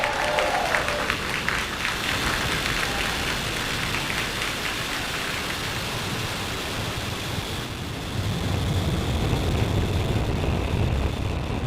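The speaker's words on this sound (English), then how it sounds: "Ignition and liftoff of Starlink 414." SpaceX Falcon 9 rocket igniting and lifting off on the Starlink 4-14 launch, a continuous dense roar like heavy rain that holds loud and broadband throughout, swelling slightly toward the end.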